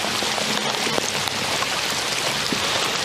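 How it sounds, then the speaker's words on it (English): Heavy rain pours down during kayak fishing, a dense hiss of drops drumming on the water and the boat, loud and steady from start to finish with scattered sharper taps and no talk. "Yeah, it's raining good now."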